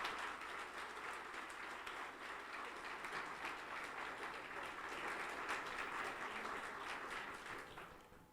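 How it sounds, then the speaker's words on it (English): An audience at a Women, Peace, and Security panel applauds the panelists with sustained, dense clapping that holds steady for several seconds and then starts to fade. "Let's please give a round of applause to our panelists."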